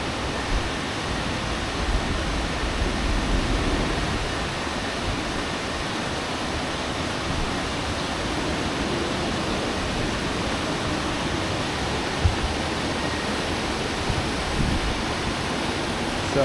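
Water rushing out of a canal lock as a boat is lowered, a broad steady roar of flowing water lasting well over ten seconds, even and continuous with no talk.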